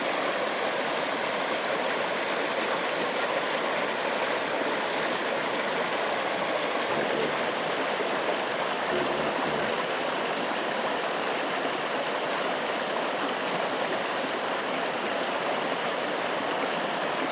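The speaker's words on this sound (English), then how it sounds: "And this is a little river here." A small river runs near a campsite along the Skelco pass, its rushing flow a steady, even wash of water that fills the whole stretch, close and constant with no talk.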